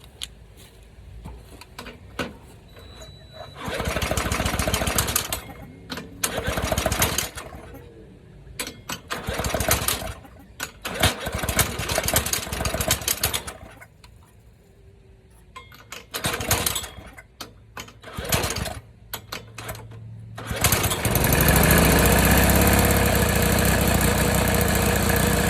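A push lawn mower engine fitted to a ride-on frame, with no idle, sputters and revs in uneven bursts, then settles into a steady loud running drone near the end.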